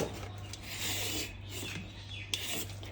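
A ripe papaya being peeled by hand with a knife, producing soft, continuous scraping and rasping strokes, quiet and close, with no talking.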